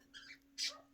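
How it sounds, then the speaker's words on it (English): A couple of faint, muffled dog barks from a distance, heard through walls in a quiet room. "You can hear our dogs out there barking."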